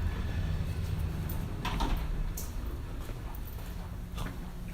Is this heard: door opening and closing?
yes